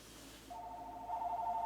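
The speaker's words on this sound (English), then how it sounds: "Phone's ringing." A faint electronic phone tone starts after a moment of low background hum, ringing in a steady repeated warble.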